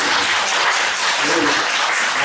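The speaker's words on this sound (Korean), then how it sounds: "박수 한 번씩 박수" A church congregation at a Sunday service applauds in a dense, steady wash of clapping that fills the whole stretch at a loud, even level, with no pause or break.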